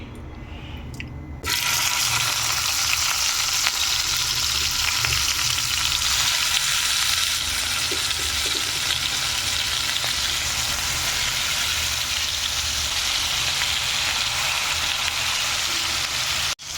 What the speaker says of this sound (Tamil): ஒரு பேனில் வந்து ஆயில் ஆட் பண்ணியிருக்கேன். மட்டன் சாப்ஸ் வந்து ஆட் பண்ண போகிறேன்.